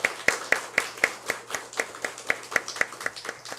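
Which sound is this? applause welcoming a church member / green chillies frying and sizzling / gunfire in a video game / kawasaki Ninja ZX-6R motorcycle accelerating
applause welcoming a church member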